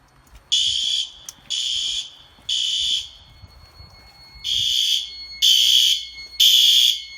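Commercial fire alarm horn strobes sounding in sync, giving loud, shrill electronic horn blasts in a steady on-off pattern of about six bursts, heard close up.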